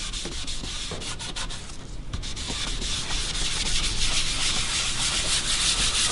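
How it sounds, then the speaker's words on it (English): A rag rubs leather dye stain off a guitar top in steady, close scrubbing strokes, a continuous dry swishing friction with no talking. "Take a clean rag, just wipe up some of the stain."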